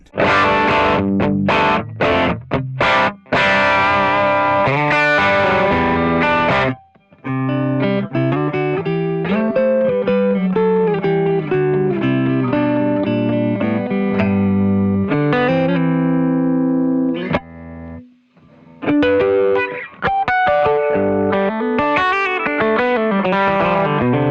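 Loud, overdriven electric guitar chords and riffs played through an amp with a closed-back cabinet, gritty and aggressive, with a couple of short pauses between phrases.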